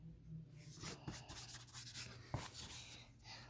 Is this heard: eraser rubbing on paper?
yes